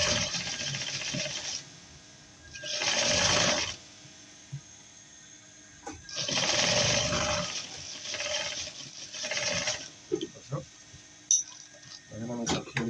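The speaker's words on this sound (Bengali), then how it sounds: "এখানে আমি চাপ সেলাই দিয়ে দিলাম।" A sewing machine does top stitching on a child's round dress in several short bursts separated by pauses, close and clear, with light handling clatter near the end.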